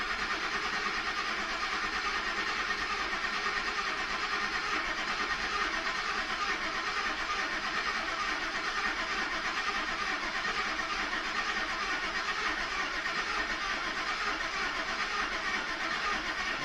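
A 2005 Ford F150 engine cranking at full throttle, a steady, dense mechanical churn that holds unbroken at constant loudness throughout with no clear catch or change in pace.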